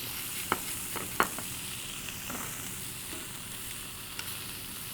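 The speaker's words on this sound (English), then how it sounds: "We're gonna put these right into the pan here. Obviously the pan's pretty hot. We're getting some response right away from the heat." Thin steak medallions hiss and sizzle in a hot pan, a steady close frying crackle with a few sharp pops and clinks from moving the meat.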